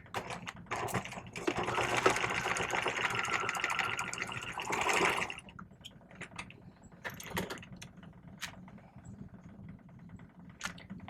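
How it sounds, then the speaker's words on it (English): A sewing machine back stitching the short ends of fabric in a construction stitch runs in a steady mechanical whir for about five seconds, then gives way to scattered clicks and handling noises, with no talk. "we are back stitching front and back. We're just stitching both short ends."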